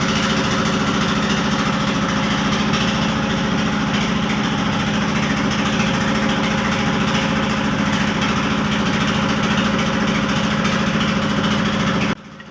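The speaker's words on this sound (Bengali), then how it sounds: "আমাদের ট্রলার ছেড়ে দিয়েছে গন্তব্যস্থানে ওপার যাবো" A river trawler's engine runs steadily as the boat heads across toward a char, a loud continuous droning throb that cuts out abruptly at the very end.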